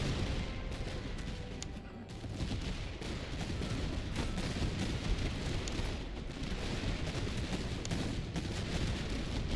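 Musket volleys crackle in Master of Command, British line infantry firing without bayonets, a dense ongoing rattle of overlapping gunfire with distant booms and no talking.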